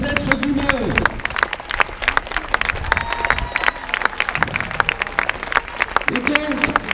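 Crowd applause at an outdoor rally for the hospital and public services in Montreuil, scattered claps mixed with crowd noise and voices, fairly close and lively.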